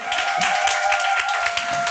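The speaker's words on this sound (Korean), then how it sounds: "큰 박수 주세요" An audience at a business group meeting claps in a dense, steady patter of applause at moderate loudness, with a faint sustained tone lingering underneath.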